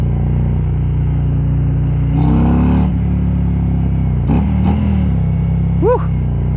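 A 2023 Harley-Davidson Road King Special rumbles continuously while riding, with a deep, loud engine drone and brief swells of revving as the throttle opens and gears shift.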